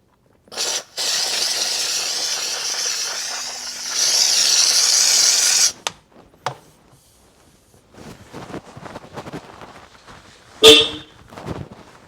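Car horns honking outdoors near a 2007 Subaru WRX, with a long sustained blast, then a second long blast, followed by short toots and scattered quieter street noise.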